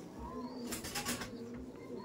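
Laldom pigeons in a loft with their young coo faintly and steadily at low pitch, with a brief soft rustle or wing flutter in the middle.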